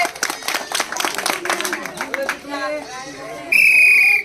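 Children clap in a burst of quick, irregular claps during a noisy ball game with prizes, with voices calling over them, then a sharp, loud whistle-like tone cuts in near the end.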